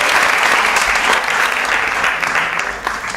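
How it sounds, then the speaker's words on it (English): An audience at a poetry performance finals applauds the judges, a dense, loud and even wash of many hands clapping for a few seconds. "could we just give a round of applause to our main judges as well?"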